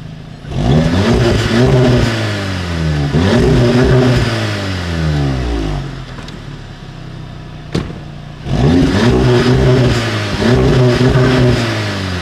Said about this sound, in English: We're going to do some revs on the stock exhaust noises.